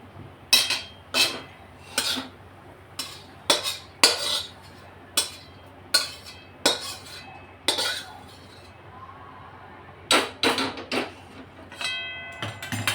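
Fried whole spices for Kolhapuri masala are scooped out of a pan into a dish with a spoon, giving a string of about a dozen sharp metallic clinks and scrapes at an uneven pace, close and loud, with no talking.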